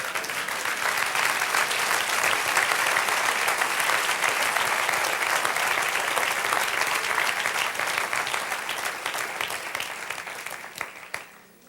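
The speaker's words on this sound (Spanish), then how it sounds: "Dale un aplauso." A church congregation breaks into sustained applause during a sermon, dense and steady for about ten seconds before thinning and fading out near the end.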